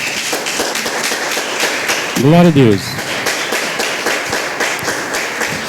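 A church congregation claps steadily in dense, sustained applause while a voice speaks over the clapping.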